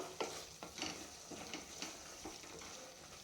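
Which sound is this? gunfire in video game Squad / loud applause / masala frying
masala frying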